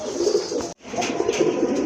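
Pigeons kept for sale coo close by in soft, throaty, rolling calls that continue almost without a break, with one short gap.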